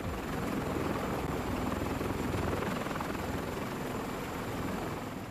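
A CH-53 heavy-lift military helicopter produces a loud, continuous rotor and engine roar that stays steady and dense throughout, with no voices.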